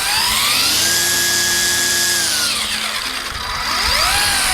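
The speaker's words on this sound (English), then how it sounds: "you just pull this trigger here, and then this. You can control the speed pretty well here." Battery-powered string trimmer motor whining loudly and alone, its pitch holding steady, then dropping as the speed trigger eases off and climbing again as it revs back up.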